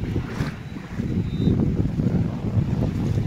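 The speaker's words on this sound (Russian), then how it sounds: "сейчас ветер сильнее" Strong seaside wind at the beach in Vityazevo buffets the microphone with a loud, continuous low rumble and gusts, surf washing faintly beneath it.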